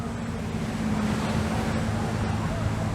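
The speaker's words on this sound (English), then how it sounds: "You can hear the waves." Waves lap at a busy lake's shore, a steady low wash with a motorboat drone running underneath, mixed with some wind noise.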